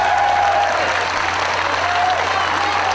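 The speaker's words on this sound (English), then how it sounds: "As the fans, you can hear the applause." Wrestling fans in an arena applaud loudly and continuously, with crowd noise mixed in and a faint tonal whistle or hum beneath the steady clapping.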